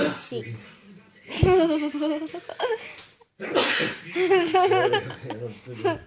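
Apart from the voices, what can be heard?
man sneezing during a lullaby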